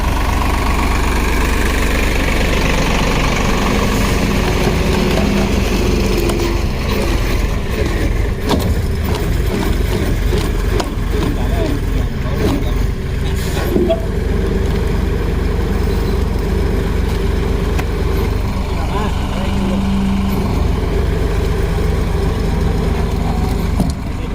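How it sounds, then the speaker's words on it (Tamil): A heavy tractor engine idles and chugs steadily with low rumbling vibration, driving a log-crushing machine through its PTO, with irregular knocks and crunches of wood being broken throughout, close and loud. "இந்த டிராக்டர் பார்த்தீங்கன்னா கட்டையை உடச்சிட்ருக்கு"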